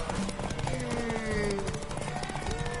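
Rhythmic clip-clop of horse hooves in The Witcher 3 on PS4, over a busy, layered game soundscape with music and voices mixed in.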